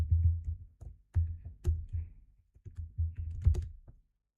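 Rapid keystrokes on a computer keyboard, clicking and tapping in irregular bursts with short pauses, close and fairly quiet with no talking.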